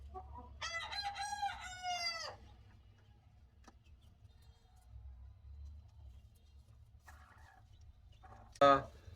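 A chicken gives one clear, nearby crow lasting about two seconds. Quiet follows, with a faint tick and low background hum, and then a short sharp squawk near the end.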